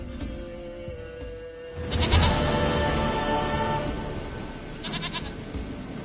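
A goat bleats in the video game The Witcher 3: Wild Hunt, wavering cries rising over a continuous ambient background, with a second quavering bleat near the end.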